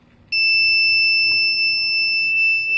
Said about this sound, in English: the Arduino will be able to receive it using this receiver and you can hear a beep